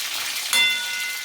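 Crispy chicken frying vigorously in overheated oil: a continuous hiss and crackle, close and fairly loud, swelling sharply partway through as if something is added or stirred, with no talking.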